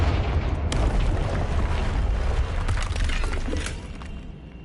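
Loud, dense blasting spell explosion from a wand in the Hogwarts Legacy game, a sustained rumbling boom with crackling debris that gradually fades, no talk.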